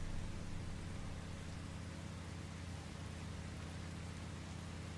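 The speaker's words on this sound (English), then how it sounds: "Driving at high speeds in the rain" Steady rain hiss in the Once Human video game while driving at high speed, a dense continuous wash over a low engine rumble, loud and unbroken throughout.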